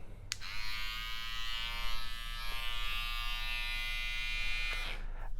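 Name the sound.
electric hair trimmer motor running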